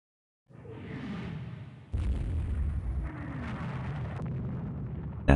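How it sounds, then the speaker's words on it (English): A torpedo strikes a warship in Rule the Waves 2, giving a deep, rumbling explosion that starts suddenly and rolls on with a sustained boom. A sharp burst follows at the end. "Rango hit by a torpedo."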